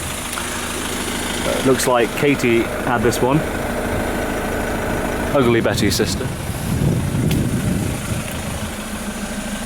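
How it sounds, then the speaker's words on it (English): A Fiat ambulance first-response car's engine idles smoothly and steadily, a low continuous hum underneath someone talking close by throughout. "the engine's running nice and smooth"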